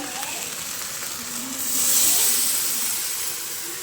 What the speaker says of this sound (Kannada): ಇವಾಗ ಅದನ್ನ ಹಾಕ್ಕೊಂಡು ಅದ್ರ ಜೊತೆಗೆ ಫ್ರೈ ಮಾಡ್ಕೊಬಿಡ್ತೀನಿ ಫ್ರೆಂಡ್ಸ್